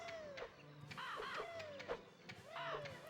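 Birds cawing in the Banjo-Kazooie video game, repeated descending crow-like calls in a steady series of about five or six, loud and close over game music.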